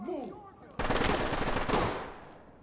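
Sustained automatic gunfire from the tactical shooter Ready or Not erupts after a quieter lead-in, a dense rapid burst lasting about a second before easing off, with faint voices talking around it.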